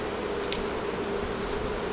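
Honeybees buzz steadily around an open hive during a spring inspection, a close, continuous drone with a few individual bees whining past.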